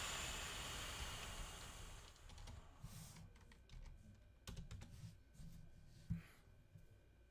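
Rapid clicking and tapping at a computer, scattered small clicks coming close together and faint against a light background hiss, with no talking.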